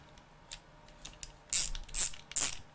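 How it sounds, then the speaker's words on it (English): A 3/8-inch socket ratchet clicks in three quick, loud bursts of ratcheting after a few lighter ticks, close up and with no talk. "I can put any of these sockets on here and have a nice ratchet"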